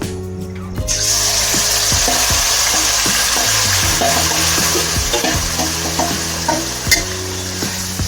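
Marinated chicken pieces frying in hot oil in a kadhai, a loud steady sizzle with clinks and scrapes of a utensil stirring, plus a faint musical tone under it and a sharp clack near the end.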